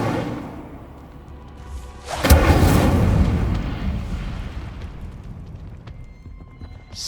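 Hogwarts Legacy's Incendio fire spell goes off with a sudden booming whoosh of flame, then a roaring burst that slowly fades over several seconds.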